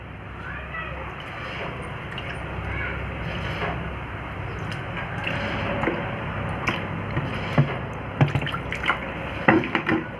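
A cleaning mixture is poured onto a tiled floor, the liquid splashing and spreading over steady background noise, with a few sharp drips and splats near the end.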